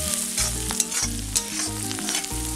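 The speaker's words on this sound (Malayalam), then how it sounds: "ഇനി ഇത് എണ്ണയിലൊന്ന് മൂപ്പിക്കണം." Crushed dried red chilli and turmeric fry in hot oil, giving a continuous loud sizzle. Rhythmic scraping and stirring strokes against the pan repeat throughout.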